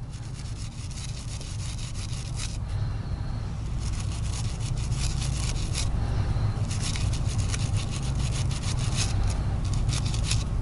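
A brass wire brush scrubs fouling from the grooves of a Komrad rifle regulating puck, giving steady close rasping strokes with short pauses, over a constant low hum.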